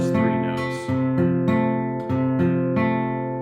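Plucked guitar notes ring out one after another in a slow, even sequence on a few strings, clear and close with no voices.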